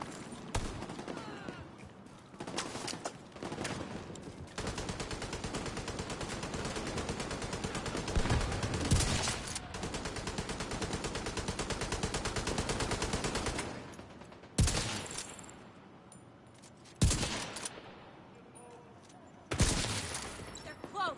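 Sustained automatic gunfire from a firefight in The Division 2, dense rapid bursts running loud for several seconds, then breaking into separate sharp volleys with quieter gaps between.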